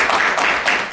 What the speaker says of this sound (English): I just want to make sure we give her a round of applause for coming in to do this